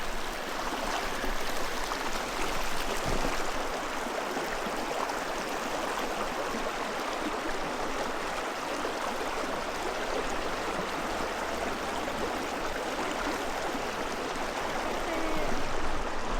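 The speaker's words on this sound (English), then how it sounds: "we're gonna step out into the creek here" A Colorado mountain creek rushes in a steady, close, unbroken roar of flowing water that holds level throughout.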